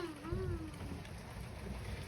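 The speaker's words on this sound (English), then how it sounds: "It is raining, guys." Steady rain falls outdoors during a thunderstorm in Limerick, a dense continuous hiss at an even level, with a brief tonal voice-like sound early on.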